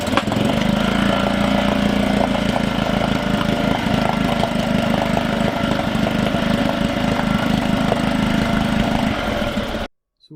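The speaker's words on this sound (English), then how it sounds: "bringing the engine oil up to temperature by bringing the motor through different rev ranges" A 2008 Suzuki 2.5hp outboard motor runs steadily through its rev ranges to warm the oil. Its buzzing, near and loud engine drone holds for about ten seconds, then cuts off abruptly.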